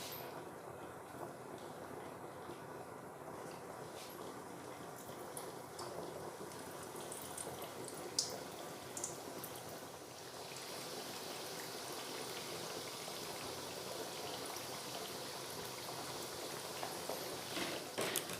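Semolina thekua fritters frying in medium-hot white oil, a steady, even bubbling sizzle that carries on throughout and gets a little denser toward the end.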